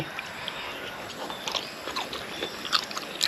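Someone bites and chews boiled, tender pork head dipped in seafood sauce, with close, moist crunches and mouth sounds in an irregular rhythm.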